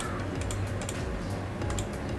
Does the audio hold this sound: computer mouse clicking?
yes